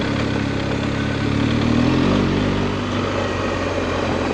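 An Indian Scout motorcycle engine idles steadily up close, a continuous low rumble with a slight swell in loudness midway and no talk.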